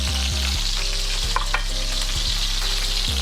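Ground beef fries in a pan with a steady, loud sizzle, broken by a few light scrapes and stirs; no one speaks.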